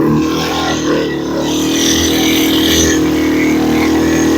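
A Yamaha 225DR outboard motor runs steadily and loud, its throttle sticking so the engine holds a high, droning rev with only a slight dip early on.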